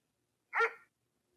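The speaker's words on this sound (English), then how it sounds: "Did you hear that? It was Dog." A single short video game dog bark rings out once, fairly clear, surrounded by silence.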